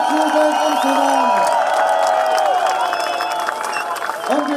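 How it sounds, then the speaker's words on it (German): Crowd applause and cheering rise for a Dutch float at a cannabis parade in Germany, with steady clapping and whoops outdoors while a voice speaks over the noise. "Bitte einen dicken Applaus für Niederlande."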